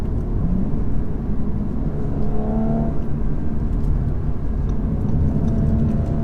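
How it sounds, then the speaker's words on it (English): A 2017 Audi S4's V6 drones smoothly while the car is driven, a steady, full engine note with slight rises in pitch and no one talking. "buttery smooth V6. Such a nice engine note."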